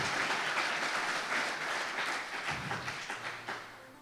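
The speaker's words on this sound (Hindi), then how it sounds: "जोरदार तालियां खुदा के लिए बजाइए।" A church congregation breaks into loud, sustained applause, dense clapping from many hands that fills the room and slowly thins toward the end.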